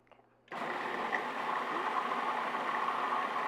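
A blender whirs up abruptly and runs steadily at close range, blending a vegan cheese mix with rice or soy milk in a kitchen, a continuous motor whine without talk.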